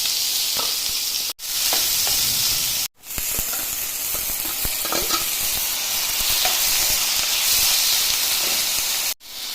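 Dried fish fries in oil in a home kitchen with a steady, loud, close sizzle and hiss. The frying breaks off briefly a few times and carries on with occasional stirring clatter.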